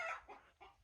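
A chicken gives three short clucks in quick succession, fairly faint and alone.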